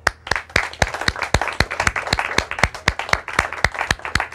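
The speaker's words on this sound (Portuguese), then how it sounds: "Uma salva de palmas para a quarta equipa," Applause for the fourth team, the Invencíveis, at a prize announcement, with many hands clapping in a lively crowd and a few loud, sharp, close claps cutting through at a quick, uneven rhythm.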